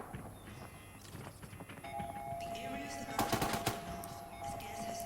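Rapid bursts of gunfire in the shooter game Arena Breakout, crackling through the middle of the clip, loudest around three seconds in, with excited voices talking over the action.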